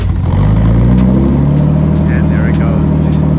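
A drift car engine turns over and catches, then settles into a loud, steady idle that runs throughout.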